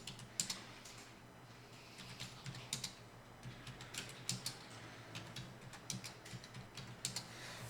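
Quick, quiet tapping on a computer keyboard goes on steadily while data is entered into spreadsheet cells, broken by a few firmer single key strikes such as Enter, with no talking.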